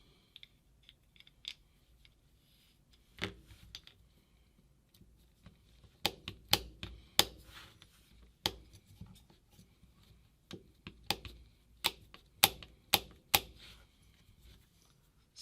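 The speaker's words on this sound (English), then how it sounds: "Starting to feel it click up a little bit." Ram adjustment on a FloryPB A4 Fly paintball marker being turned during a rebuild, producing small, close, sharp clicks in irregular bursts against near-silence.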